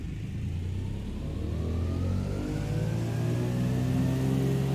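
Twin piston engines of a Douglas DC-3 in Microsoft Flight Simulator 2020 throttle up on the runway for takeoff, a loud, close, steady droning rumble that climbs gradually in pitch and intensity, with no talking.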